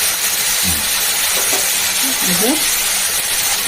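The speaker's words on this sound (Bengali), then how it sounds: "আমি কিন্তু বাঁধাকপিটাকে সুন্দর করে ভেজে নিয়েছি" Shredded cabbage fries in a pan with a steady, dense sizzle and hiss throughout, while a faint voice talks softly underneath.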